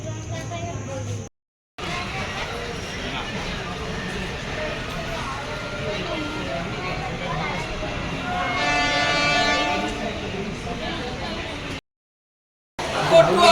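A night train runs toward Bally station with a steady rumble and clatter that swells midway, a horn or whistle tone rising briefly near the end, with voices faintly under the noise.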